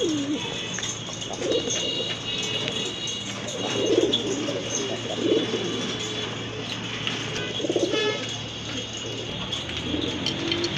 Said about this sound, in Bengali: ফার্স্টে আপনাদেরকে এক জোড়া চিলা কবুতর দেখাচ্ছি।